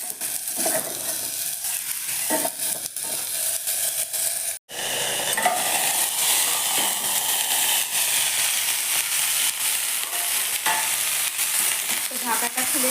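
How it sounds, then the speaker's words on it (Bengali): Papaya and rohu fish frying in mustard oil, a steady close sizzle and hiss with occasional stirring scrapes, running continuously with a brief cut partway through and no voices. "সর্ষের তেলে রান্না করছি"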